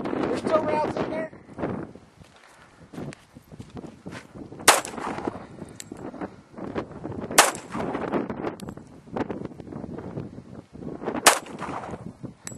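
Firearm shots ring out in sharp single reports spaced a few seconds apart during an outdoor shooting session, with wind buffeting the microphone and people talking between shots.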